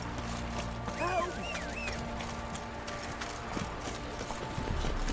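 Geralt's horse Roach galloping in The Witcher 3: Wild Hunt, a steady run of hoofbeats throughout, set within a busy game soundscape with whistling tones and a low mechanical hum.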